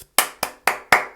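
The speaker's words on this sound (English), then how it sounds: "round of applause from me, because you're brilliant" A single person claps their hands five times in a steady, moderately paced rhythm, each clap sharp and close, with no talking in between.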